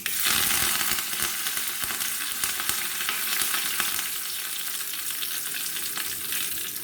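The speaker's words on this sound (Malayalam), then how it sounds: "നമുക്കിതിലേക്ക് കറിവേപ്പില ഇട്ട് കൊടുക്കാം" Curry leaves crackle and sizzle loudly in hot oil, a dense steady spitting that holds throughout with a few sharper pops, close and with no voices.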